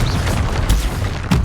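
Confringo blasting spell from Hogwarts Legacy goes off as a loud, dense booming explosion, with a second sharp burst near the end amid continuous game noise.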